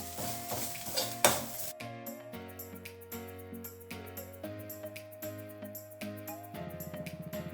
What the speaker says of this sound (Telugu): వేసుకొని మనం ఈ పచ్చిదనం పోయేదాకా కొంచెం వేయించుకోవాలండి.